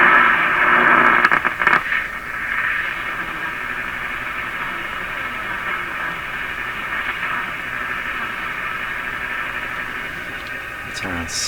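An RCA Victor A23 tube radio gives off a steady wash of static hiss and crackle with brief louder bursts, and the tuning noise drifts as the dial moves.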